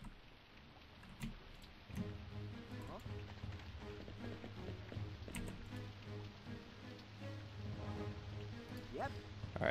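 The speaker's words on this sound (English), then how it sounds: "And it's raining, of course." Steady, soft rain hisses through a level of the video game Commandos 2, a constant faint patter mixed with low game ambience and a few scattered clicks.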